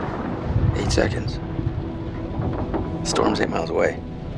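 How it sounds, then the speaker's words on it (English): Distant thunder rolls from a storm in the video game Man of Medan, a low continuous rumble with wind-like noise beneath speech from people talking. "Storm's 8 miles away."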